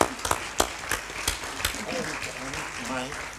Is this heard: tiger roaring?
no